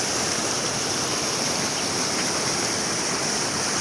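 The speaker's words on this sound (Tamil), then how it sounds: "தண்ணி நல்லா போகுது" Steady rushing of a flowing stream, a continuous broadband wash of water close by with no voices.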